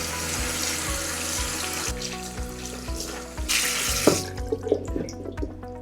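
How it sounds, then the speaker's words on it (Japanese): Vegetables rinsed under a running kitchen tap inside a draining container, a steady close rush of water with clatter and splashes, a louder burst of flow midway, and a low hum in the background. "でもうこれが水切りできるようになっているのでこのまま洗います。"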